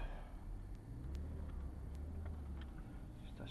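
A car rolls slowly into a parking spot, its engine a low, steady rumble close by with faint creaks and clicks over it, no voices.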